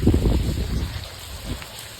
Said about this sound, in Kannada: ಈಗ ಜರ ಕಡಿಮೆ ಆಗಿತ್ತು ಅಂದ್ರೆ ಜಿಟಿ ಐತ್ರಿ